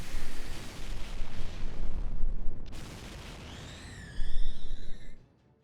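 Rapid barrage of heavy impacts and explosions in the Fate/Grand Order video game, dense rumbling blasts for several seconds, a brief lull, then a final bright burst with a ringing whine that cuts off abruptly.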